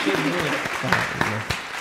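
Applause from a studio audience during a raw-versus-cooked food challenge game show, a brief burst of clapping mixed with voices talking over it.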